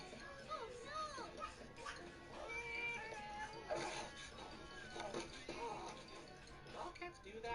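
A cat meows and yowls repeatedly at close range in a lively indoor setting, rising and falling cries mixed with children's chatter and occasional clatter.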